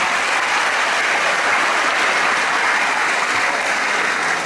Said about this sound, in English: Your applause, your felicitation, your appreciation